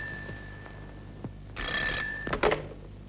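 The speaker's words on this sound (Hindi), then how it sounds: "बॉस, पूना से इब्राहिम का फोन है।" A telephone rings with a bright electronic trill that rises after a faint tonal lead-in, followed by a couple of clicks as the handset is picked up, fairly quiet overall.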